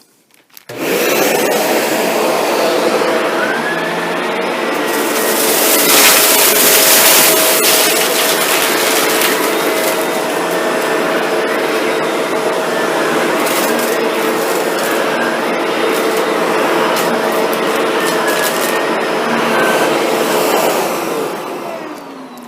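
A Shark NV752 vacuum cleaner runs with its brush bar engaged, giving a loud, steady whirring drone that holds for about twenty seconds with no talk.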